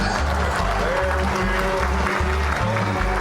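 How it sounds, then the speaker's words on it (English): Dense crowd applause filling the clip, loud and continuous, over a low pulsing musical backdrop. "maybe an encore if applause is heavy enough"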